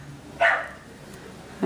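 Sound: neighbours' dog barking

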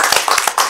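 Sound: applause

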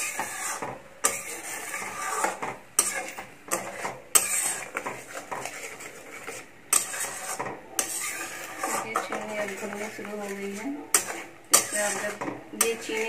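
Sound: stirring sugar into milk in a pan

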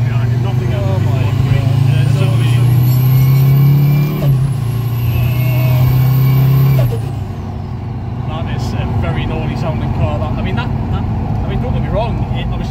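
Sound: Nissan Stagea with Mercedes OM605 five-cylinder turbo diesel engine

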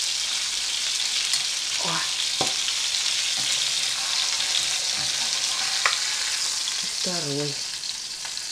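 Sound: saltimbocca with bacon frying in a pan

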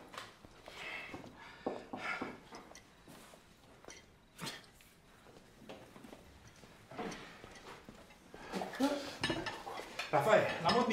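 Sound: dishes and cutlery clattering as plates are carried

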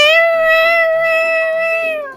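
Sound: voice imitating a cat meowing in Roblox video

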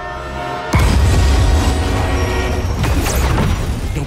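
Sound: runaway train in a video game

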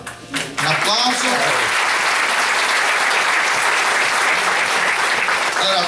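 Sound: audience applause

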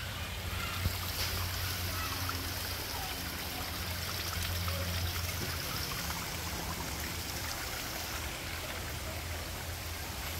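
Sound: clear spring water flowing

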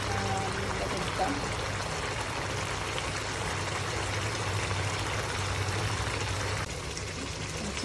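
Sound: pouring hot water into cooking beef dish

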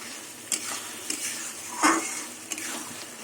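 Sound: beans, mushroom and fried nuts stirred in pan over low flame

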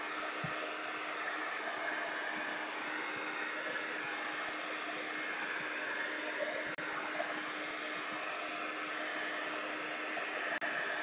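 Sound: hair dryer drying paint on canvas

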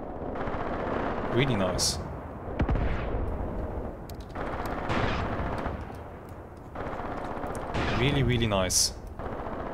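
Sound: artillery strike and gunfire in the video game Graviteam Tactics: Mius Front

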